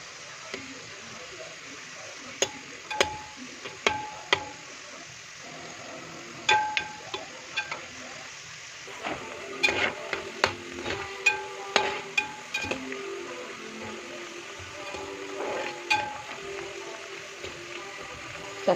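Jackfruit chips frying in oil in a pan during the rainy season, with quiet continuous sizzling broken by irregular crackles and pops, close by, under occasional speech.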